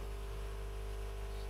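Low-set hot air gun blowing a steady broadband hiss with a constant mains hum beneath, fairly quiet and unbroken, no talk.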